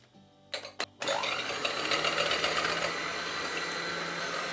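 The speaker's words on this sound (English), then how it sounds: "So I'll start by gently mixing with an electric mixer" An electric mixer beating egg whites for a tiramisu and ricotta cake, preceded by a few brief clicks and then settling into a continuous close whirring buzz.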